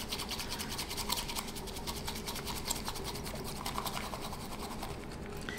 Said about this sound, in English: And then I take the whisk, just whisk it back and forth.